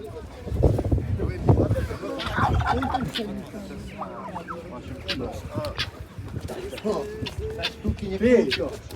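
Turkeys gobble and call repeatedly nearby at a market while people talk over them throughout, with birds chattering in the background.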